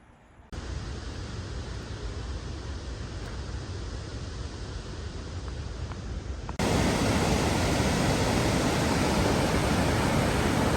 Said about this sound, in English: this waterfall behind me, it's actually completely natural